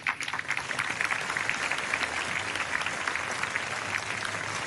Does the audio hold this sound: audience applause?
yes